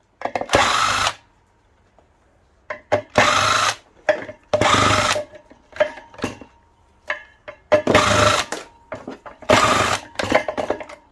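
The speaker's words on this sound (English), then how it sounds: "Are you filing the plastic?" Plastic scrap being filed during metal recycling work, heard as several short scraping strokes with quieter gaps and small knocks in between.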